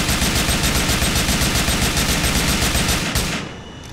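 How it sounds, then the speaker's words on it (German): An M240 machine gun from a Medal of Honor weapon mod in GTA IV fires a long, rapid, evenly spaced burst, loud and close, then stops abruptly with a brief fading tail. "Auf Nummer 20 und den letzten für jetzt eine M240"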